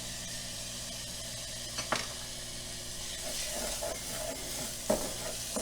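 Garlic, basil, crushed red pepper and paprika are stirred into cooked onions in a pan, a soft steady sizzle broken by a couple of sharper spoon scrapes.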